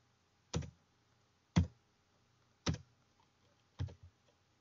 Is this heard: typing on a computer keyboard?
yes